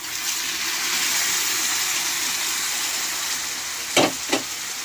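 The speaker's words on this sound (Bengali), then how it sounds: "এবার আমি দিয়ে দেব সিটি মারা সবজিগুলো।" Pre-steamed vegetables and Malabar spinach hit spices frying in fish oil, a loud continuous sizzle followed by a couple of brief clattering knocks near the end, with no talking.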